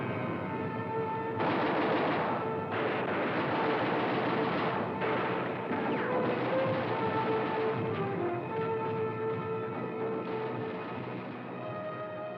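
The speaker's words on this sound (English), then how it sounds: "the crossfire of German guns still rakes the shore" German gunfire and artillery raking the D-Day beach: dense, continuous bursts of rapid shots and booms, loud and sustained, with the crackle persisting throughout and no voices heard.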